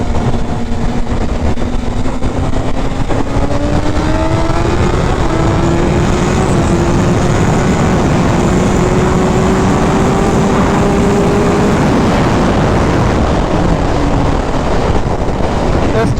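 A tuned BMW S1000RR sport motorcycle pulls hard in third gear from about 7,000 RPM. Its loud, continuous engine roar climbs steadily in pitch under heavy wind rush, with no voices.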